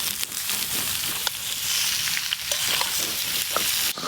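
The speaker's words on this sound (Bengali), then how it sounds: "যে আলু খুব ভালো করে ভেজে নিয়েছি, এর মধ্যে এবার এঁচড়টা দিয়েও ভেজে নেব" Potatoes and boiled young jackfruit fry in hot oil in a Bengali kitchen, giving a steady, loud sizzle with scraping stirs, heard alone.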